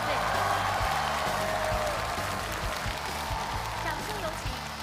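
Audience applause at a CCTV Spring Festival Gala variety show, steady broadband clapping held for several seconds alongside loud stage music.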